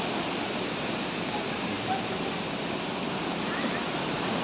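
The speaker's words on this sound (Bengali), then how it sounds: "এটাই হচ্ছে জাস্ট খেচিপেড়ি ওয়াটারফলস" Khecheopalri waterfall pouring in the Pelling area of Sikkim, a steady broadband rush of falling water that holds constant and close throughout, with no talk over it.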